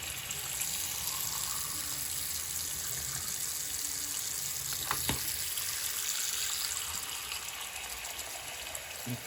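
Water draining from a bathroom sink, a steady hissing gurgle with a brief sharp clink midway, fairly quiet and close with no talk.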